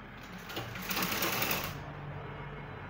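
Sewing machine running a continuous stitch along a zipper on a gown, steady close whirring that swells louder midway and eases off toward the end, with no talking.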